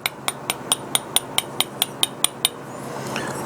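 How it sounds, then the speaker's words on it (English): Eleven sharp, evenly spaced metallic taps drive 1/8 inch dowel pins into the valve guide holes of a five-cylinder radial engine cylinder head, close and crisp, then stopping. "take the dowel pins and stick them in the valve guide holes. They're snug. Tap them in, 1/8 inch dowel."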